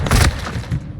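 A stun grenade goes off in Modern Warfare 2 with a short, heavy boom and thump, close and loud, trailing into a brief muffled rumble.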